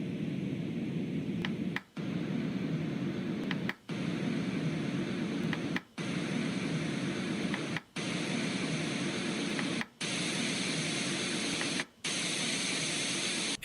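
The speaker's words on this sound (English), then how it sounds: "First, I'll show you the white sound noises." A sound machine plays steady white noise, a broad even hiss interrupted by brief dropouts about every two seconds, with no voices.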